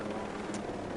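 A helicopter in a military training video game gives a steady, close rotor drone that fills the whole moment, with faint voices underneath.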